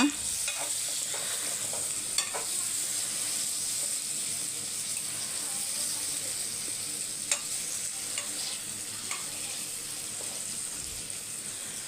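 Mushrooms frying in a little oil in a pan, with a steady hiss of sizzling and occasional scraping clicks of stirring, close and continuous without talk.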